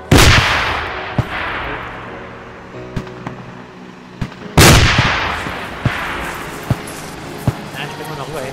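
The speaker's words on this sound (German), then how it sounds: "Achtung, Granate!" A grenade blows up in ARMA 2, a loud booming blast that rolls into a long rumbling decay, with a second big explosion midway and scattered sharp gunshot cracks, while voices talk over the combat.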